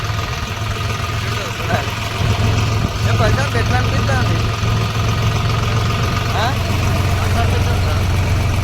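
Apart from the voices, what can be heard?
tractor engine running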